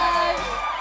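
Studio audience on a Filipino noontime variety show, a dense burst of cheering and shouting that stays loud throughout the brief moment, with voices blending into a crowd roar.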